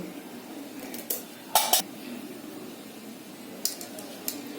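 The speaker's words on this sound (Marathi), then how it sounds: "हे मी सगळं आता एकत्र करते" A spoon mixes yogurt with chili powder, turmeric, cumin powder and hing in a pot for veg dum biryani, giving a few sharp metallic clinks against the pot amid soft, quiet scraping and squishing.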